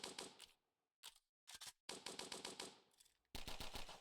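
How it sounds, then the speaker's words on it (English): Rapid automatic gunfire from a Roblox first-person shooter, loud bursts of closely spaced shots broken by short gaps, with a sustained stream of fire near the end; no talking. "let's fire off some ammo"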